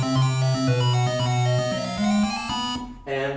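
Synthesized two-voice 1-bit binary audio signal at full duty cycle, a harsh buzzy square-wave tone with two melodic lines stepping through pitches, heard alone with an abrupt change near the end.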